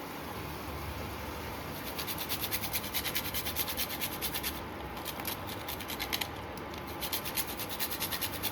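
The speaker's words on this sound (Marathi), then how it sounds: "हे जायफळ किसून घेते मी याच्यावरच." Whole nutmeg is grated on a metal grater for modak filling, a close, soft rhythmic rasping and scratching of quick repeated strokes that runs steadily throughout, with no talking.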